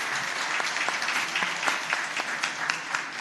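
Gallery guests applaud in the Virginia Senate chamber with steady, even clapping, and a few sharper individual claps stand out across the room.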